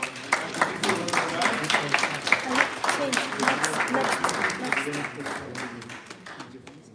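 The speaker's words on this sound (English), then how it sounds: "round of applause again" Audience applause after a presentation at a live institute event, a burst of scattered claps that builds and then tapers off toward the end, with speech mixed in.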